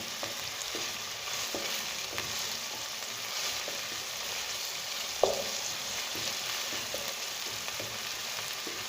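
Onions fry in a pan with a soft, even sizzle throughout, faint and steady, broken by light scraping taps of stirring and one sharper clink.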